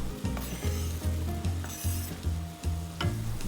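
Potatoes go into a sizzling pot of corn chowder base with fennel, a steady frying hiss broken by periodic low stirring scrapes and clunks, close and continuous with no talking.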